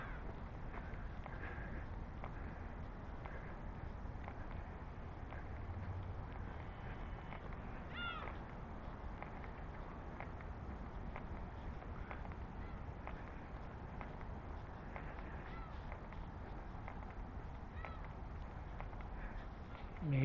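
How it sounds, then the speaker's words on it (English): Gulls call along the Sumida River in Tokyo: a few scattered, moderately distant mewing cries rise over a quiet outdoor morning ambience with soft footsteps. "That's the sound of gulls."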